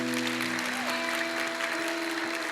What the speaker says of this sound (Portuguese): Vamos dar uma salva de palmas para eles, gente.